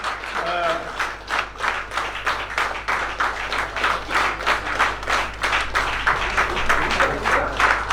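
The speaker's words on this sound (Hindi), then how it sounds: "हम चाहते हैं कि पूरी तालियों के साथ जो है आप लोग इसका स्वागत करें" Audience applause at the grand inauguration of the National Federation of Retired Insurance Field Workers of India, steady dense clapping from a crowd in a hall for the full length, with a brief voice near the start.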